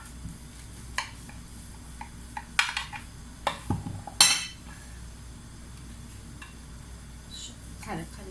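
A knife cuts through baked leek fritter in a metal baking tray, producing scattered sharp clinks and scrapes, a few clustered together in the middle, with quiet gaps between them.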